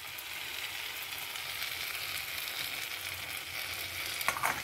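Tomatoes cook down in a pan with salt, giving a steady, close frying sizzle with faint stirring and a few brief clinks near the end, with no speech.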